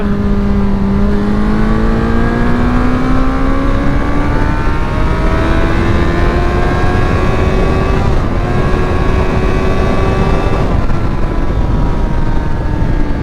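Car engine at about 80 km/h downshifting through the gears from sixth to third, its steady loud drone rising in pitch with each shift and dropping briefly between them, continuous and close with no talk.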